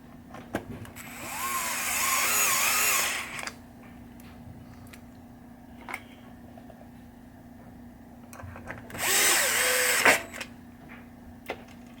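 Power drill driving screws back into a 1976 Williams Grand Prix pinball machine, two bursts of whirring a few seconds long separated by quiet clicks and small handling noises.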